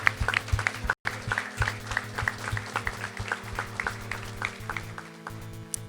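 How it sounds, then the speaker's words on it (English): Audience applause for a runner finishing second at a speedrun charity event, with steady clapping across the room broken by a brief dropout, then continuing on under a low music bed. "Give a big round of applause for him."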